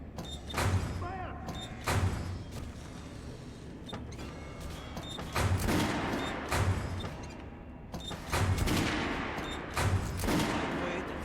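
Automatic weapon fire in the video game Metro Last Light, a lightweight fully automatic gun, loud repeated bursts of rapid shots in a rhythmic pattern against a dense, busy game soundscape.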